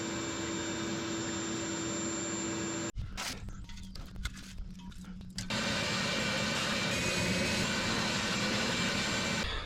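A vacuum cleaner runs loud and steady while cleaning out the engine bay of a Case 170B excavator, its drone briefly dropping and shifting as the nozzle moves, then returning at full strength.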